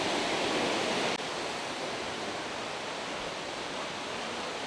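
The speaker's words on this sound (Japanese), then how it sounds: "こちらが露天風呂で、すぐ目の前はですね、滝です。" A waterfall crashes right in front of an open-air hot spring bath at Yugano Onsen's Fukudaya inn in Shizuoka, a loud, steady roaring rush that fills the air without pause and has no voices over it.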